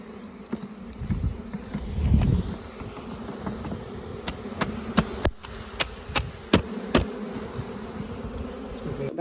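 Bees buzz around a boat dock after light rain, a close hum rising and fading as they fly past, with a few sharp knocks and clicks in the background.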